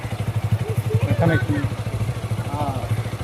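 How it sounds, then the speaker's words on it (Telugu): A motorcycle engine idles close by with a rapid, even, chugging exhaust pulse from the silencer, running steadily throughout while a voice speaks over it. "సైలెన్సర్లో ఏదైనా సౌండ్ వేరే సౌండ్ వచ్చింది అని అడుగుతున్నా."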